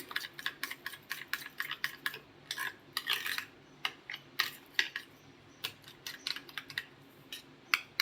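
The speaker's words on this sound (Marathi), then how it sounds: "या पद्धतीने हे सगळं मिक्स करून घ्यायचंय बघा आपल्याला." Spices and chili powder stirred into a mixture for a fasting-day sabudana thalipeeth chutney, with quick close clinks and scrapes of a spoon against a bowl in an uneven rhythm, alone without talk.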